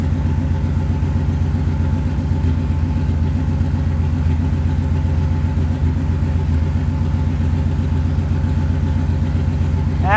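A Corvette engine idling steadily and loud up close, a continuous mid-pitched rumble with even firing pulses that barely varies throughout.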